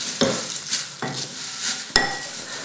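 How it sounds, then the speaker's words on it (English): Cornflakes being stirred into melted chocolate in a bowl for Easter chocolate cornflake cakes, giving crisp rustling scrapes with three sharper spoon knocks against the bowl, close and alone. "So you want to kind of be gentle with these. If you can, maybe stir them in a bit as we go."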